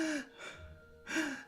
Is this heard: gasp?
yes